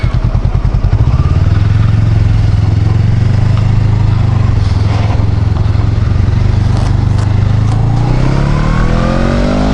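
A Honda Rebel 500 motorcycle engine rumbles steadily at close range, its deep throb rising and falling as the bike rides on, with a brief clatter along the way.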